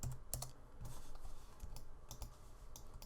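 Computer keyboard keys pressed in short bursts of sharp clicks and taps, close and fairly quiet, with brief pauses between the keystrokes.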